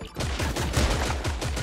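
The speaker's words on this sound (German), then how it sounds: "Oh, ich werde beschossen." Rapid bursts of automatic gunfire crackle in the shooter game Creative Destruction, a fast, evenly spaced volley of loud shots filling the short moment with no voices.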